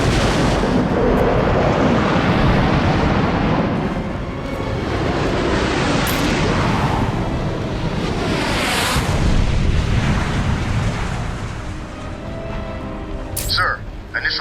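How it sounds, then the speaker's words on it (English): Bombardment of a museum in Batman: Arkham City: a continuous heavy rumble of blasts and debris roars for the whole span, with a voice speaking over part of it. "Sir, initial bombardment of the museum has been completed."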